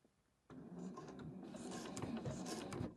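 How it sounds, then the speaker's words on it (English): A sewing machine starts abruptly and runs steadily as it sews a fabric bow onto a bag, a close, continuous motor whir with rapid needle chatter. "So the next thing to do is just to sew the bow down on the other side"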